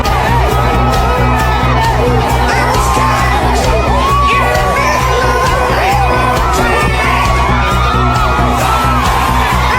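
A large crowd at a political rally in London for VP Sara Duterte cheers, whoops and shouts continuously and loudly, a dense roar of many voices with no break.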